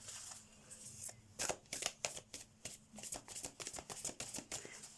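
Oracle cards of a Moonology deck being shuffled up close, a rapid run of crisp riffling flicks and soft slaps, faint and without talk.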